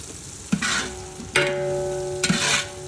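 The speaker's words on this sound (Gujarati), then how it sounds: "ધીમા તાપે બધી જ વસ્તુને બરાબર ફ્રાય કરી છે" Undhiyu vegetables with plenty of green garlic frying over a low flame, three scraping stirs against the pan, each followed by a soft sizzle, close and moderately loud, no voices.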